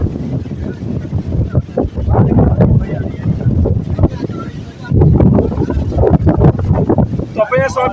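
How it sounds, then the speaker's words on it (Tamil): Strong wind of about 60 km/h gusting across a hilltop on Thoppaiyasamy hill, roaring and buffeting the microphone loudly and continuously throughout, with people talking over it. "காற்று 60 கிலோமீட்டர் அடிக்கிறது தள்ளுது"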